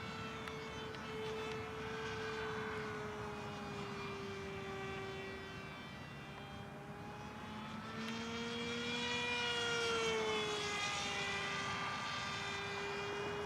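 An electric ReadyMadeRC Mini Skyhunter RC plane on a 3-cell 4000 battery flies at full throttle, a steady whining motor drone that shifts in pitch as it passes, fairly faint and at a distance.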